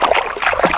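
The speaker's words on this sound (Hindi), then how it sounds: "ये है धनसरी नदी" The Dhansiri River in Karbi Anglong, Assam rushes and splashes nearby, a loud, broadband watery wash with uneven surges across a brief moment.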